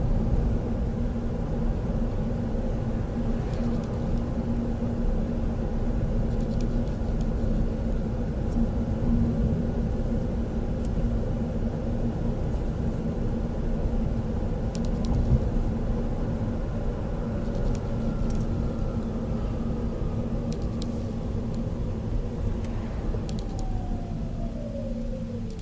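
A Toyota Auris hybrid drives on flat road while switching to battery mode, producing a steady low rumble of tyre and road noise inside the cabin, with a faint whine fading out near the end.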